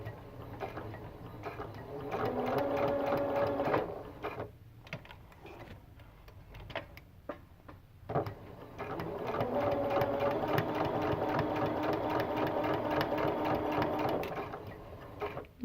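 A sewing machine stitches fabric hexagons in two steady whirring runs of rapid, even needle ticking, separated by a pause with scattered clicks as the stitch length is adjusted.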